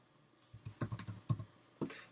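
Fingers tap a computer keyboard while code is entered in Xcode, a short burst of about six soft, close keystrokes in an irregular rhythm.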